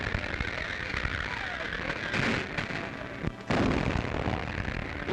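Army artillery guns firing at Fort Story, with deep booming blasts around two and three and a half seconds over a steady rumbling, noisy background, and no clear talk.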